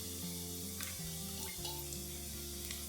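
Finely chopped mushrooms saute with lemon zest in a pan, making a soft, steady sizzle with a few light stirring clicks and faint hum beneath, no talking.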